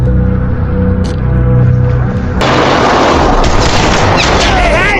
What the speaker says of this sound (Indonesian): Tak diduga tembakan Marcus salah satu ada yang mengenai tubuh Alex